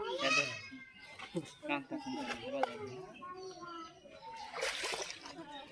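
A large pangasius fish splashes and thrashes in a pond as it is hauled in on a line, with bursts of splatter close by while excited children and adults shout over it.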